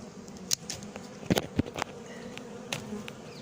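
Bees buzzing close by around a natural beehive being fitted with reed screening, faint steady buzz broken by several sharp clicks and knocks.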